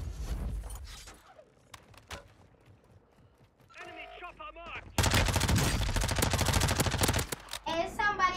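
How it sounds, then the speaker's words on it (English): Video game gunfire on Ashika Island: scattered sharp shots and mechanical clicks at first, then a loud, dense burst of rapid automatic fire lasting a couple of seconds, with players' voices in between. "Oh, he's shooting at us."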